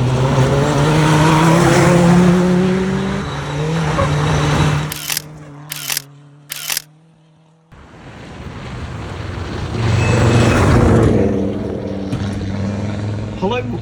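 A rally car drives with a droning, shifting engine note under heavy wind buffeting. The noise drops away briefly in the middle, broken by a few sharp knocks, then surges back up.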